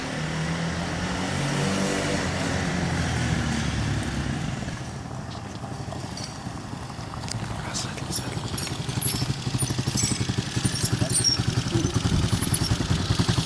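A car engine idles and revs with a rough, steady rumble at a traffic police stop in Inđija, Serbia, growing louder and more clattery in the second half, with voices faintly mixed in.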